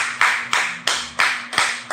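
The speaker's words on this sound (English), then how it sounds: "Y'all give Sister Mary 7 Hebrew claps a day." A church congregation gives seven sharp Hebrew claps in unison, evenly spaced crisp hand claps ringing out close and loud with no talking.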